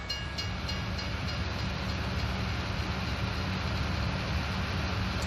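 A train rolls past in Farming Simulator 19 on the USA map, a steady low rumble of rail cars that holds at an even, fairly loud level the whole way through, with no voices.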